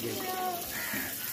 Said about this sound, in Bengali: আমার ছেলে কি করছে দেখো, স্নান করছে